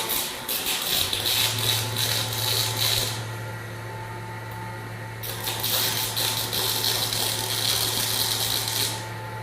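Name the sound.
No-Mar robotic motorcycle tire changer running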